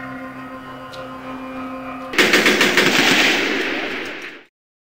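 Gunfire from a Dawn of the Planet of the Apes scene erupts after a quiet tense hum as a loud, rapid burst of shots, rattling for about two seconds before cutting to silence.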